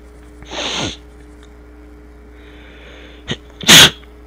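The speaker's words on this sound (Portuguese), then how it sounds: "Nossa, que espirro." A person sneezes loudly and close to the microphone, a short sharp burst near the end, after a softer breathy intake and a brief sniff, in an otherwise quiet room.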